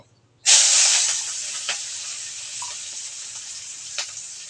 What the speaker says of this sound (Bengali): এবার আমি পেঁয়াজ কুচি রসুনের কোয়া দিয়ে দিব